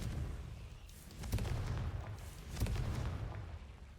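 Confringo spell in Hogwarts Legacy going off as a pair of deep booming blasts about a second apart over a low rumbling game background.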